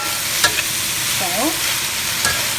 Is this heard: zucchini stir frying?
yes